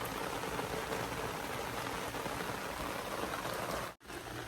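Steady rain falls on a rainy day in Canada, a dense even hiss spread wide and close by, running unbroken with one brief dip near the end, with no voices.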